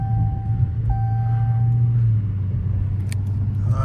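A Mopar car engine in track mode rumbles steadily from inside the cabin during a late-night drive, a deep continuous drone with a brief tonal beep and slight shifts near the end.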